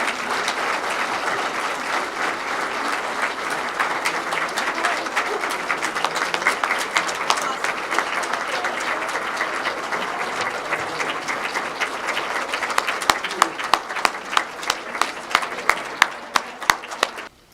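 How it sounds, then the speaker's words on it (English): Sustained audience applause after a speech at a CEO appointment event, a dense even clapping that grows sparser with distinct individual claps toward the end before stopping abruptly. "everybody, for that round of applause"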